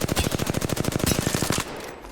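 Rapid, evenly spaced gunshots ring out in PUBG, about twenty loud cracks in quick succession over a second and a half, then a short fading tail.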